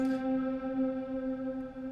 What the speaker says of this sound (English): shimmer reverb. This is sort of, you could think of it as a tuned reverb.